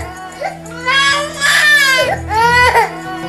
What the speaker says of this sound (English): My daughter woke up suddenly screaming like hell, screaming like if something happened.